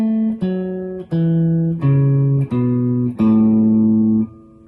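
Guitar playing a simple scale on the fifth string, eight clear plucked notes stepping down and back, each held evenly with a steady rhythm, close and alone.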